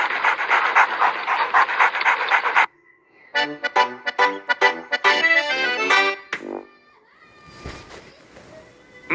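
Husky dog panting rapidly and loudly up close for a few seconds, followed by other bursts of breathy, voiced sounds and a quieter, noisier stretch at the end.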